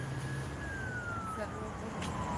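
A siren from an emergency vehicle, a fire truck or ambulance, at a street protest outside a police station, with a steady descending wail heard at a distance under crowd and traffic noise.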